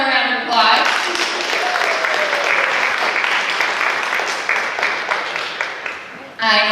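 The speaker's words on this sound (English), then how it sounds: "Let's give him one more round of applause." An audience at a Queer Stories event breaks into sustained applause, a dense wash of clapping that holds steady for several seconds before fading, with a voice briefly heard at the edges.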